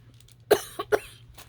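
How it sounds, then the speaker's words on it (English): A few sharp coughs from a person who has been unwell and on medication, a strong cough followed by two quicker ones in a short burst, close and fairly quiet. "Definitely that stupid cough is back"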